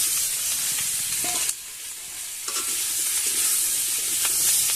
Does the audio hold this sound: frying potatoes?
yes